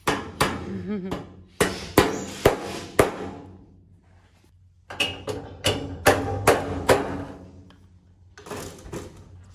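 Nails being hammered into the leading edge skin of a vintage Stearman aircraft wing, a series of sharp metallic strikes in two bursts with short pauses, close and loud.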